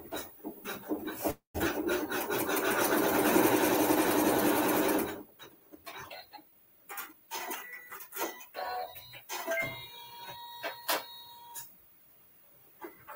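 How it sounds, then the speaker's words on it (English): A sewing machine stitches a seam through fabric, running in one loud, steady burst of rapid mechanical whirring for several seconds, then falls to quieter scattered handling clicks and rustles with no talk. "And then we're going to sew our seam."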